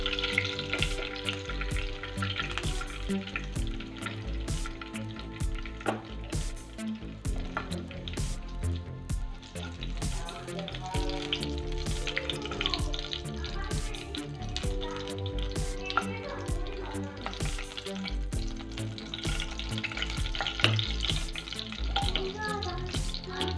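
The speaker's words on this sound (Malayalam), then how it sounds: "ബാക്കിയും കൂടി നമുക്ക് അതേപോലെ വറുത്തെടുക്കാം" Chicken pieces for chicken kondattam fry in hot oil with a continuous crackling sizzle, broken by scattered clicks and scrapes of a utensil stirring in the pan.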